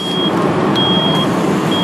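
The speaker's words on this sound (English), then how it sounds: "you hear the smoke alarm going off" A high-pitched smoke alarm beeps in repeated long tones during a burn demonstration of a growing fire, over a loud, steady roar of background noise.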